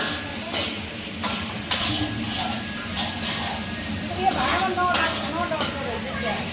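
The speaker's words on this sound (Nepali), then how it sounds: "एकदम राम्रोसँग फ्राई भइरहेछ है।" Noodle ingredients, including ginger-garlic paste, fry and get stirred in a pan, giving a steady close sizzle with scraping spatula strokes against the metal while a person talks over it.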